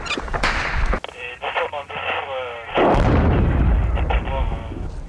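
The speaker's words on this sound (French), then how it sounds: "C'est des arrivées de RPG-7 ça." Incoming RPG-7 rockets strike during combat in Afghanistan, heard as sharp loud blasts and a heavy rumbling impact midway, with radio-style voices and talk between the hits.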